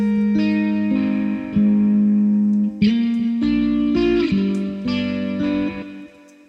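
Electric guitar chords and sustained notes change every second or so, soaked in room reverb so each one rings out and blurs into the next, loud and close with no voices.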